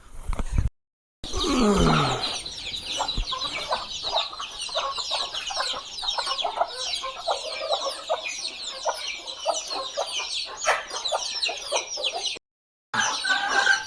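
A flock of free-range desi chickens clucks and squawks continuously up close in a poultry shed, with a loud drawn-out squawk near the start and busy overlapping calls throughout.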